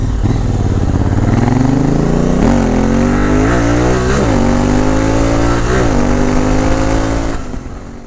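A Honda Africa Twin motorcycle fitted with a 44-tooth rear sprocket, riding off-road on dirt, its loud engine close and rising through repeated gear changes with rev climbs and brief dips throughout, no talking.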